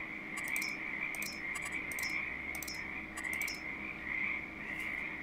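Frogs in the Farming Simulator 22 video game croak in repeated short rattling bursts over a steady insect-like drone, with no talking.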